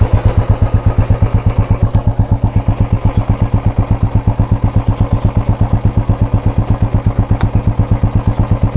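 Royal Enfield Bullet 350 idling, heard from behind near the exhaust: a loud, deep, regular thumping pulse with an even rhythm throughout, plus a couple of faint clicks, no speech.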